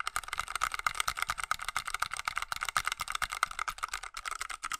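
Rapid typing on a Ducky Mecha Mini mechanical keyboard with Cherry MX Red switches, a dense, steady stream of close keystroke clacks with no talking.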